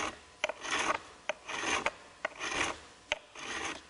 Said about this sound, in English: That's all you do with the crowning file.